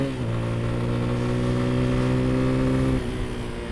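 A CF Dual Lite 230 dual-sport motorcycle engine revs up and holds a steady, strong drone for a few seconds close by, then drops back toward idle.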